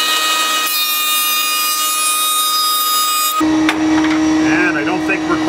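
Wood board passed over a planer or jointer blade to flatten it for a trestle table, a loud steady machine whir with a sharp change in tone midway as the board meets the cutter, with a voice talking.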